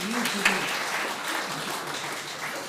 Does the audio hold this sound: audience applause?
yes